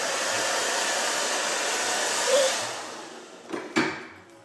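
A hair dryer blows steadily on short pixie-cut hair, a close whooshing roar that softens toward the end before a couple of brief knocks, with no talking.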